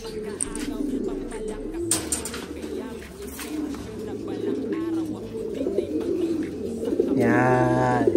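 Racing pigeons from Tacloban and Aparri give repeated soft, low throaty coos close by, with a flurry of wing flapping or scuffling near the end.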